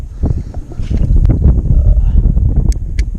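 Steady wind gusting across a park lakeshore during bass fishing, a broad low rumble of wind against the microphone that stays loud throughout, with some faint water and movement noises and no talk.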